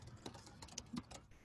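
A handful of quick, quiet computer keyboard keystrokes tap out in an uneven burst, close and faint, with no talking.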